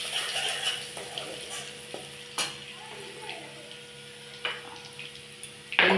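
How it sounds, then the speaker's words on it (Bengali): Crushed garlic fries in hot oil while being stirred, a steady close sizzle broken by a few sharp scraping clicks of the spoon against the pan, with no one talking. "এবার এই রসুনগুলো এখানে দিয়ে দিচ্ছি। দিয়ে আমি একটু নেড়ে দিচ্ছি, একটু হালকা লালচে ভাব হবে।"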